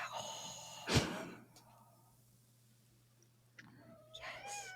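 A cat gives a short meow in the background of a quiet indoor room, with another faint cry near the end under a steady low hum.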